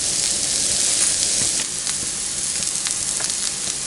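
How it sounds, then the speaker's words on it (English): Quinoa-and-vegetable filling for vegetarian portobello stuffed mushrooms sautéing in a pan, a steady, close sizzle with fine crackling pops that eases slightly partway through, no talking. "we'll let that saute a little bit and soften up"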